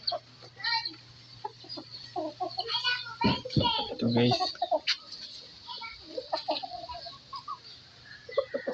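Pet chickens on a rural provincial farm clucking near and far in scattered short calls, with people talking over them throughout.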